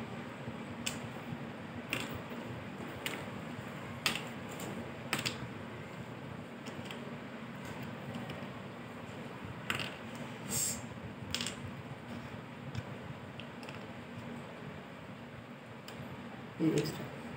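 Small magnets dropped one by one into a box and its lid: sharp clicks and light taps at irregular intervals, close by and fairly quiet, over low room noise with a voice talking.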